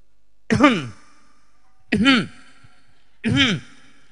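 Three separate throat-clearing ahems from a person, each short and voiced, evenly spaced in an otherwise quiet room.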